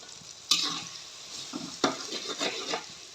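A paste is stirred into hot tempering in a pan for a rustic tur bean amti, producing quiet sizzling with sharp scraping strokes of a spoon that come in short bursts.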